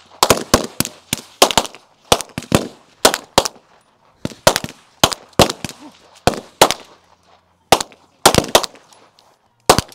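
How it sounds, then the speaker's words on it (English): Rifle and pistol gunfire in the final rounds of a women's team stage at the 2024 Magpul Showcase shooting competition: loud, sharp shots fire in rapid clusters and quick pairs across the whole clip, with short gaps between strings. "Janae and Blair, final round of rifle and then final round of pistol."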